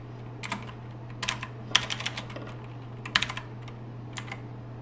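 Scattered keystrokes on a computer keyboard during Python coding, with a few short bursts and single clicks heard up close over a faint steady hum.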